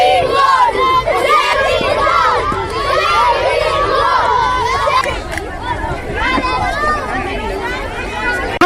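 Schoolchildren at an environmental rally in Kashmir shout slogans together as a loud, dense crowd of young voices, with overlapping cries and chant-like bursts filling the whole stretch.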